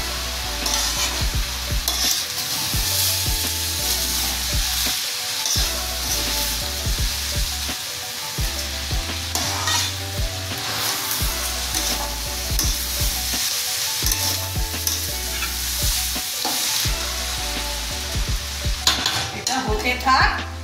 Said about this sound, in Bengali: চাল কষানোর সময় একটু নুন দিয়ে কষাচ্ছি। ভালো করে নেড়ে ছেড়ে কষাতে হবে মশলার সঙ্গে।